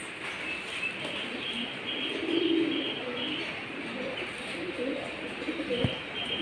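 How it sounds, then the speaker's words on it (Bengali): Pigeons coo softly on a shed roof built over a cattle pen, low repeated calls rising from a steady outdoor background with a few brief chirps. "মূলত এই চালাটার উপরে আমার কবুতরগুলা থাকে"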